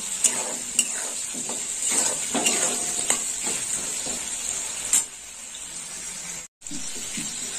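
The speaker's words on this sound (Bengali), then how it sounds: "দিয়ে একটু ভালো করে ভেজে নেব" Potatoes fry in oil with salt and turmeric: a continuous sizzle under repeated scraping stir strokes and occasional sharp clinks of a utensil against the pan, with a brief drop near the end.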